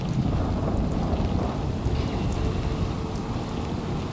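Steady heavy rainfall with thunder rumbling in the Fallout 4 video game, a dense continuous wash of loud rain noise filling the whole stretch with no voices.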